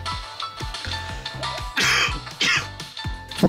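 A person coughs and clears their throat in several short bursts close to the microphone, with PC Engine Duo game music playing in the background during a console repair session.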